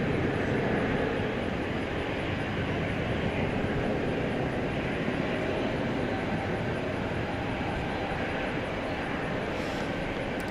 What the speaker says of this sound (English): This American Airlines 737-800 is going to Silao in Mexico